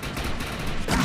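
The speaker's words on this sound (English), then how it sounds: "I want to see how much damage this shotgun does" A shotgun blasts in the video game Defiance, a quick double-barrel weapon, its loud broadband report filling a short burst with a second crack near the end.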